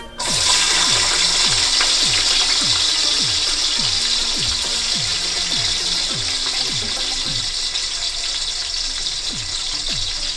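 Onions added to hot oil with cloves and cinnamon, giving a loud, dense, steady sizzle up close, with a rhythmic series of low thuds running through it and no voices.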